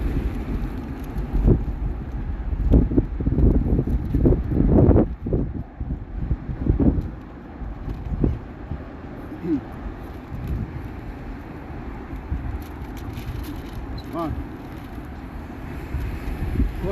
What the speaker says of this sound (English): this wind got me tripping